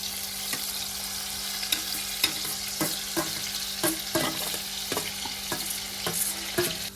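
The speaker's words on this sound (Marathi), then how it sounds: "कढईत तेल टाकलं आहे आणि ही भाजी काय करून घ्यायची आहे तेलात भाजून घेऊ" Shevla, a wild forest vegetable, fries in oil in a kadhai with a steady close sizzle, broken by regular scraping stirs of a spatula against the pan.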